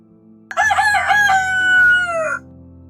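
A rooster crows once, close and loud, in a long drawn-out call that wavers and then trails off.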